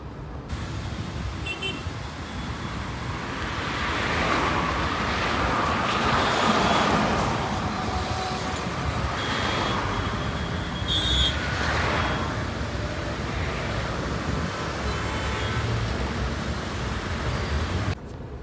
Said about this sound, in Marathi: पेणला ट्रॅफिक बघा, गाडी थांबत थांबत जावं लागते.